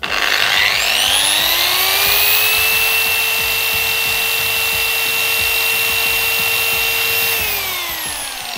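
A Rupes LHR75E mini polisher runs steadily at 5500 rpm, with a continuous high motor whine that spins up at the start and winds down near the end. No one speaks over it.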